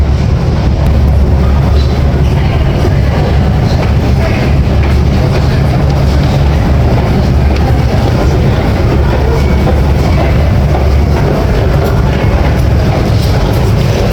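A Moscow metro train rumbles through a deep underground station, a loud continuous roar with heavy low-end drone and faint rail clatter throughout.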